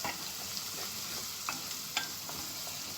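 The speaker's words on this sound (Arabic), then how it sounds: "نفضل بقى نقلب" Onions caramelizing with a spoonful of sugar are stirred in a pan for fish rice, giving a low, steady sizzle broken by a few soft scrapes and taps of the spoon.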